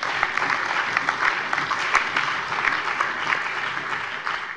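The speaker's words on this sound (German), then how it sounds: "Applaus" Sustained applause fills a state parliament plenary session marking the 70th anniversary of Hessen, a dense, steady wash of clapping from many hands with no talk over it.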